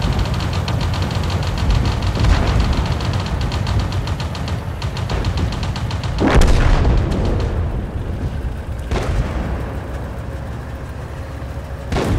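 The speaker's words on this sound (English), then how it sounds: "I'm gonna watch that scene where they take out a tank with a grenade" A grenade blowing up a tank in a TV war scene, heard as loud dense rumbling battle noise with a heavy boom midway and a sharper blast later, continuous and close throughout.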